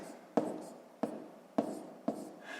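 Four sharp taps of pen or chalk marking out a math equation during a sixth-grade lesson, spaced about half a second apart, each a crisp close tick followed by faint scratching, quiet and without speech.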